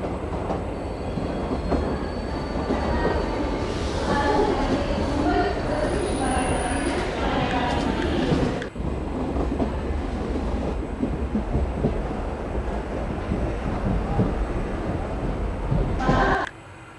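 Loud, continuous rumble and clatter of a Mumbai local train running from Kalyan toward Thane, heard from inside the carriage with rattling wheels, squealing rails and faint voices underneath.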